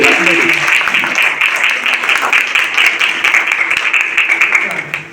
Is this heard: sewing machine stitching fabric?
no